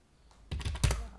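Brief typing on a computer keyboard: a few quick, close key clacks in a short cluster, fairly quiet, with no talking.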